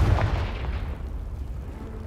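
A Confringo spell blast in Hogwarts Legacy, a booming explosion that hits loud at once and then rumbles and decays over about two seconds.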